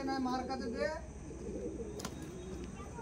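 A male and female Andhra Madrasi pigeon pair coo softly at close range, with someone talking over the low murmuring calls.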